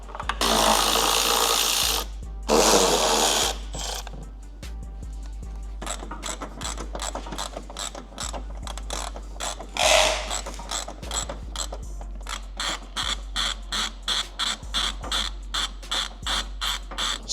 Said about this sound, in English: So we've got our 4 bolts undone.